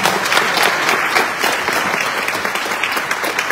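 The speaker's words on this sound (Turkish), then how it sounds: "Bu anlamda dayanışma ödülüne layık görülen Boğaziçi protestolarını da alkışlarınızla tebrik ediyoruz." Loud, sustained applause from an award ceremony audience at the Uğur Mumcu commemoration night, congratulating the Boğaziçi protests on a solidarity award, a dense, continuous clapping crowd.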